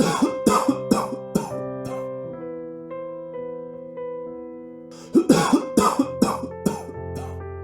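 An elderly village man coughs in a dramatized Hindi folk story, with bursts of harsh, hacking coughs at the start and again near the end, separated by a quiet stretch of soft background music.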